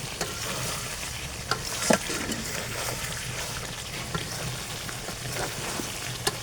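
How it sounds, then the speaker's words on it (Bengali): Mutton curry being stirred and fried in a kadai gives a continuous sizzle broken by scattered scraping knocks of a spatula against the pan, close and fairly loud, with no talking. "ধীরে ধীরে জ্বালাতে হবে আর হচ্ছে কষাতে হবে।"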